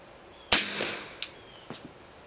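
An XCaliber SeaFire Diamond .45 ACP pistol loaded with 9mm 147 grain subsonic rounds fires one loud, sharp shot that rings into a decaying tail, followed by two fainter, short impacts.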